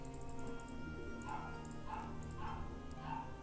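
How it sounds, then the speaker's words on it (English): A dog barking in the game Heroes of Might and Magic II, four evenly spaced yips over a steady background drone, faint and somewhat distant. "And boy, that dog's annoying."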